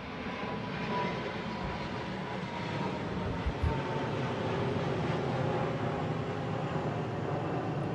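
Airplanes flying overhead give a continuous broad roar across an outdoor setting, steady and moderately loud, with a brief low thump partway through and no talk.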